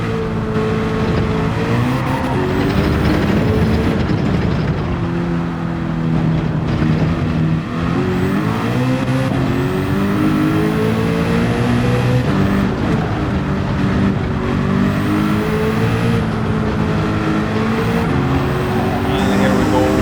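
Group C R92CP race car in Gran Turismo 7 lapping the Nürburgring with nitrous, its engine a loud continuous roar rising and falling through gear changes and revs throughout.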